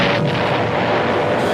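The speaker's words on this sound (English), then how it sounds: "One scores a direct hit on the battleship Arizona." An armor-piercing bomb scoring a direct hit on the battleship Arizona during the Pearl Harbor attack, heard as a loud, dense, continuous roaring rumble of explosion and fire with no pauses.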